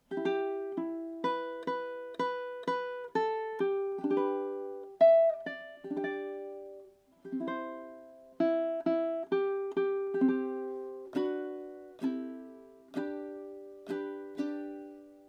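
A ukulele plays a short closing passage of strummed chords, each stroke ringing out in a steady pulse, close and clean with no speech.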